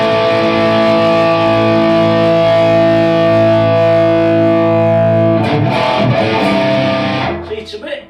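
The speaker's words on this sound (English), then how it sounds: "you get the idea of some of the distortion coming out of this thing" A guitar runs through a Strymon Volante magnetic echo delay pedal, a loud sustained distorted drone with stacked ringing tones that breaks into rougher crackling near the end before fading.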